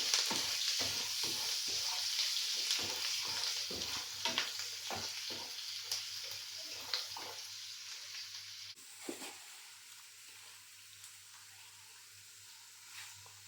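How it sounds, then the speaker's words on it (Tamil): Chopped green chillies sizzle steadily in hot oil while being stirred for prawn pickle, a continuous frying hiss broken by frequent spoon scrapes and clinks against the pan. "இது நல்லா பொரிஞ்சு பச்சை வாசனை போகட்டும்."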